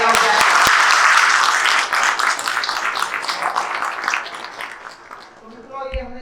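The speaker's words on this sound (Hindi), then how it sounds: "तो अपने आप के लिए जोरदार तालियां हो जाए।" An audience at a large seminar hall claps loudly and continuously, a dense crowd applause that gradually thins and fades, with a voice speaking near the end.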